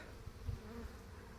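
A soft, steady buzz of honeybees flying close around a hive, some carrying pollen, a low continuous hum with no voices.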